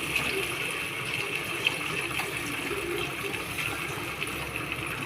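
Tamarind water poured into a ground masala for a village-style marunthu kolambu, a steady close gushing and splashing of liquid that runs evenly throughout with no talk.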